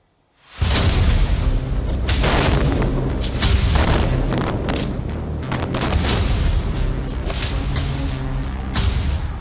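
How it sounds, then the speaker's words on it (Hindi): Heavy bombardment over Gaza: a dense, continuous barrage of loud booming explosions and rapid gunfire-like blasts that starts abruptly and roars on without a break, with no voices. "गाजा पर भीषण बमबारी, तेज धमाका और काले धुएं का गुबार"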